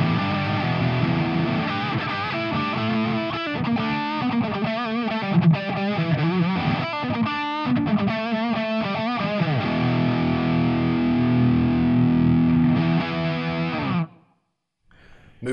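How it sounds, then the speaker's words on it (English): Distorted electric guitar through a Marshall MG100FX amp's Overdrive 1 channel, traditional Marshall high gain, strums chords and picks busy phrases, then holds a ringing chord before cutting off abruptly near the end. "we're on overdrive one, which is more traditional Marshall, but higher gain"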